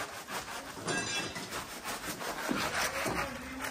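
Hand saw cutting wood during preparations for a Haldi ceremony at a home in Uran, a steady rasping rub of repeated strokes at close range with some background noise and no talk.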